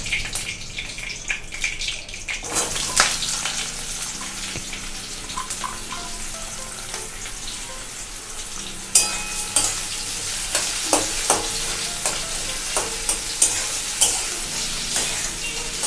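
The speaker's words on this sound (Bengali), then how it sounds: "আগে পেঁয়াজটা একটু ভাজা ভাজা হোক" Chopped onions sizzle and fry in hot oil with mustard seeds in a pan while being stirred for bitter gourd dolma with green mango, a steady crackling hiss punctuated by sharp scraping clinks of the spatula, close and fairly loud, with no talk.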